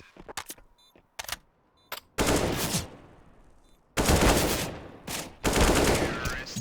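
Gunfire in CS:GO during a competitive match comes as short sharp single shots and clicks, then longer loud bursts of automatic fire, with quiet gaps between volleys.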